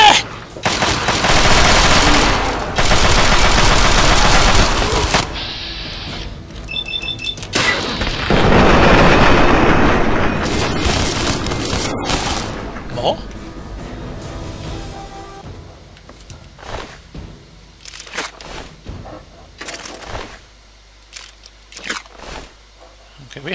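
Chinese assault rifle fire in the video game Fallout 3, long loud bursts of rapid automatic shots followed by scattered single cracks and short volleys, with a voice talking over parts of it.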